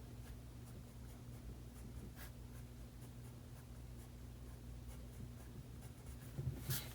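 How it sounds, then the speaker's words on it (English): A dark, sharp pencil scratches over paper while accenting the stitching on a drawn football, a faint, steady scraping of small strokes heard close up with no talk. "use this nice dark sharp pencil to further accent some of the stitching"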